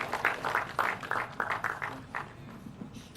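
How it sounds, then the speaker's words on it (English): Audience applause at a business event in Lagos as the host comes on stage, a fairly sparse, moderate round of clapping that thins out toward the end. "please let us give a resounding round of applause for him"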